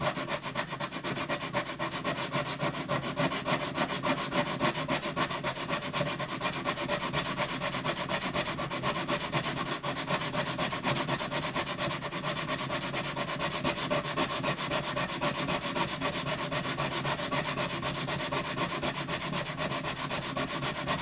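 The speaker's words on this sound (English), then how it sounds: "I need to sand that entire wing too" Close, continuous rhythmic rasping of sandpaper rubbing back and forth on the wooden bridge and wing of a Yamaha FG180 acoustic guitar, steady for the whole stretch with no talking.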